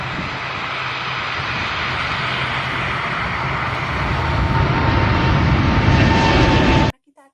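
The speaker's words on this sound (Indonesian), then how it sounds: "Bisa pergi melalui udara, misalkan alat transportasinya pesawat." A passenger airplane's engines roar loud and steady, swelling slightly louder toward the end before cutting off abruptly, with no talk over it.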